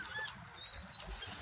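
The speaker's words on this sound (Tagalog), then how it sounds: "Daming ibon ngayon." Several birds calling offshore on the Red Sea, goose-like honks scattered across the moment at moderate distance over a low background rumble, no talk.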